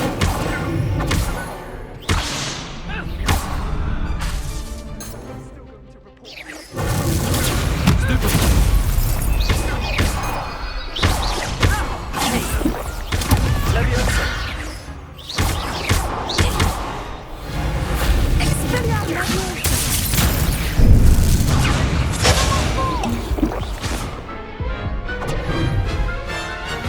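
Incendio fire spells are cast in combat in Hogwarts Legacy on PS5, loud bursts of fiery blasts, booms and crashes in dense succession over swelling battle noise.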